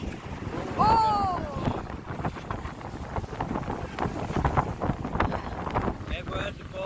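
Strong wind buffets the microphone at a beach, a steady roaring rush with faint surf beneath. Voices speak briefly over it.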